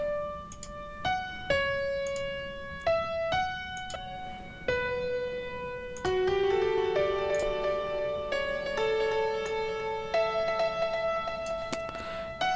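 A 4Front Piano software piano runs through compressor, reverb, delay and EQ in a trance arrangement. A melodic line of struck notes moves into fuller sustained chords, with notes blurring into a washy tail. No talk.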